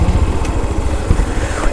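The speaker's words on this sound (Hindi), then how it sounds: "जी बाइक जा रही है" A motorbike labours uphill on a mountain road near Chandak, Pithoragarh, its engine giving a steady close drone with throbbing low rumble across the short stretch, with no talk over it.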